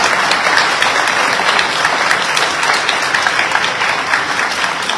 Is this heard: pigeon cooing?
no